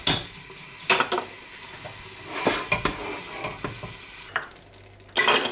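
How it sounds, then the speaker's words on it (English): An ale, apple and mustard chutney being stirred in a pan, with repeated scraping strokes of a utensil and a faint underlying sizzle, close and fairly quiet, ending with a louder clatter. "can you hear it sizzle slightly when I stir it?"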